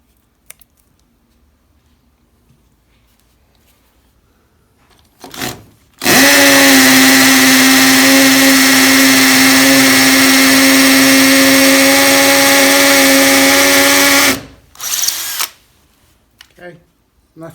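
A power drill bores into bare brick wall with masking tape over the spot, a loud steady whine lasting about eight seconds after brief handling noises, then stopping abruptly, followed by a few short clatters.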